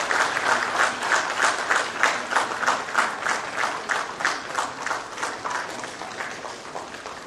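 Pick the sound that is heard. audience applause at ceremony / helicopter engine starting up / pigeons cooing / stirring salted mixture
audience applause at ceremony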